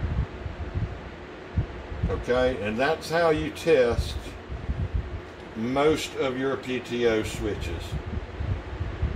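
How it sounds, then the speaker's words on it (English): An electric fan runs in the background of an indoor space, giving a steady, soft whooshing hum that continues under and between a man's speech. "Sorry about the noise in the background, guys. I got a fan going."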